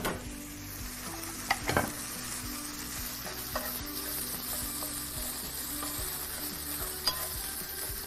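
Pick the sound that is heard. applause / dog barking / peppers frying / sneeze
peppers frying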